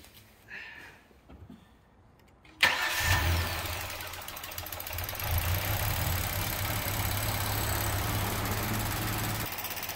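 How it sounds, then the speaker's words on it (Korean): A gasoline car engine starts after a quiet moment with faint shuffling: a sudden crank catches into a loud, steady idle with a droning hum that continues to the end. "시동을 걸어 보겠습니다."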